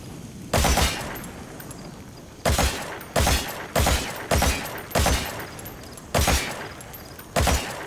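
An AK-47 look-alike rifle fires in Metal Gear Solid 5: The Phantom Pain, about nine loud, sharp single shots at irregular intervals, each with a short booming tail.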